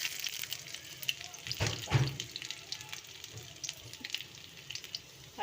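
Ginger frying in hot oil for veg Manchurian, a soft, fairly quiet crackling sizzle with a few louder bursts and splashy touches near the middle, heard alone.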